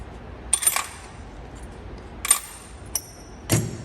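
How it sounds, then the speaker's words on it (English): Metal keys from an old tool box bought out of a storage unit jingle and clink in a few brief, sharp bursts, close by with no talk over them. "Oh, keys."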